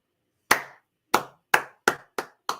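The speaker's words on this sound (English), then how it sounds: "That's a round of applause" Six separate, sharp hand claps ring out at an uneven slow pace during a St. Louis Organics midday visit, each crisp and close with a short decay and silence between.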